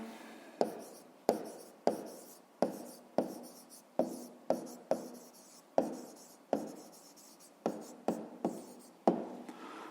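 A pen writes on paper during a fifth-grade maths exercise, making a series of about fifteen short, sharp scratching strokes in an irregular rhythm, close and clear with no talk over them.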